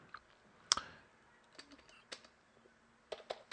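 A handful of sparse, quiet keystrokes on a computer keyboard, with a sharper click near the start and a short burst of taps near the end, heard close in an otherwise still room.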